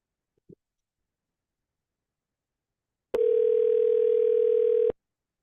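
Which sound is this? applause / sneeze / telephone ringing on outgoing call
telephone ringing on outgoing call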